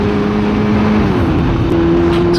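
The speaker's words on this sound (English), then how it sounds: "the traffic is still bad on this road apparently" Traffic on a road, heard from a Yamaha R6 motorcycle: a steady, loud engine drone with shifting tones as vehicles pass close by.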